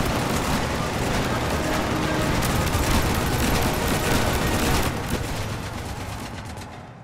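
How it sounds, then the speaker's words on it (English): Rapid, sustained gunfire in Mass Effect Legendary Edition, a dense stream of shots rattling on for several seconds at steady loudness before tapering off slightly near the end, with no speech. "Why shoot something once when you can shoot it 46 more times?"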